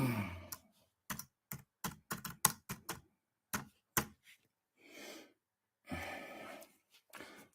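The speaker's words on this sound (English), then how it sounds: "Sorry, I'm just typing stuff quickly before it goes away." Quick typing on a computer keyboard, bursts of sharp close clicks in uneven runs broken by short pauses, with soft breathing in the gaps.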